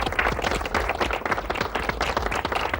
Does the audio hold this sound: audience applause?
yes